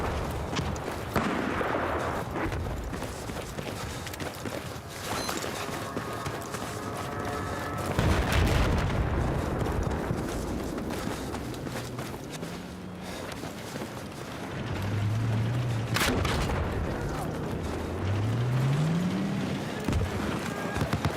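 Carbine fire in a video game, heard as bursts and pops within a busy, dense battle mix alongside explosions and vehicle noise, loud and continuous throughout.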